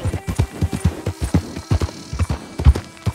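Rhythmic clip-clop of a horse's hooves on the ground in the game Red Dead Redemption 2, a steady walking gait of close, fairly loud footfalls with no talking over it.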